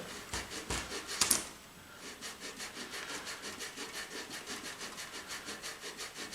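Coarse Crimson Guitars abrasive rubbed by hand over a wooden guitar body, making rhythmic back-and-forth scraping strokes in a steady fast pulse, close and fairly quiet, with one louder knock near the start.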